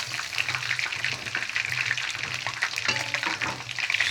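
Chicken pieces fry in hot oil with a steady, dense crackle and sizzle that stays close and fairly loud throughout. A brief clink of a utensil is heard near the end.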